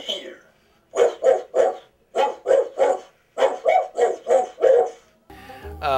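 A large Christmas toy dog, about 3.5 feet tall, barks in three rhythmic groups of quick electronic woofs, loud and close, followed by a brief musical jingle.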